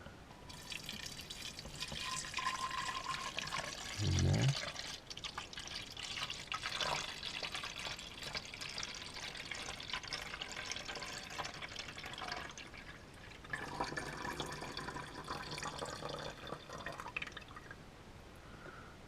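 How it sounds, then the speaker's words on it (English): A litre of water poured into a container, a quiet, continuous liquid trickle and fill sound with some drips, faint and close, with a brief spoken word. "we'll put a litre of water"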